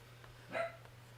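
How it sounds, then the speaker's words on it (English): A single short dog bark sounds from outside, faint and distant, over a steady low hum in an indoor room. "Dog is barking outside."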